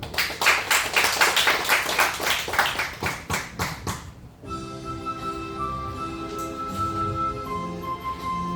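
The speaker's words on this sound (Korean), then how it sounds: "박수로 합니다." A church congregation claps hands in a steady rhythmic beat for about four seconds, loud and close, before the clapping gives way to music.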